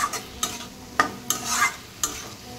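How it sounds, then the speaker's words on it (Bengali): Ash gourd slices frying in a pan give a near, broadband sizzle, broken up by several sharp stirring and scraping strokes at an uneven pace, with no voices. "কথা বলতে বলতে এখানে আমার চাল কুমড়ো ভাজা প্রায় হয়ে এসেছে"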